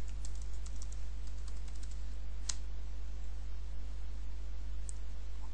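Steady, close clicking of keys as a command and a password are typed on a computer keyboard, with light taps spread across the whole stretch over a constant low electrical hum and no voices.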